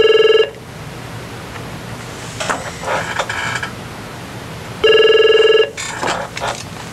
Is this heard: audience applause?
no